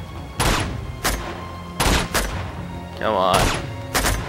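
Gunfire in the video game Uncharted 2: Among Thieves at a train yard: several sharp shots ring out in spaced bursts over a few seconds, loud and close, with brief talk in between.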